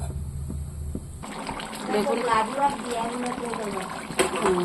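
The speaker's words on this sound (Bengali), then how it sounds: "মাছটা আমি দিয়ে দিলাম। এখন এটা একটু ফুটতে থাকুক" Fish curry bubbling and simmering in a pot, a steady close watery bubbling and spattering that swells after a quiet start, with a brief louder splash near the end.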